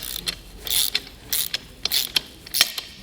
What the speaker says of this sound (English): Now I'm going to come back with my ratchet and tighten them down, but I'm not going to fully tighten it down.